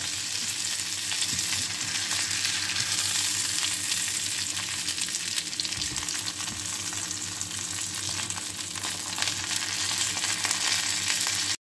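Breaded curry fish fillets fry in a pan, a steady dense sizzle of hot oil crackling continuously at close range, with small stirring shifts partway through and no voices.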